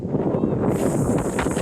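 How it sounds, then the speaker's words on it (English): Strong wind buffets the microphone in a constant low roar, loud and close, with no pause, on a hike up Table Mountain in Cape Town. "So windy."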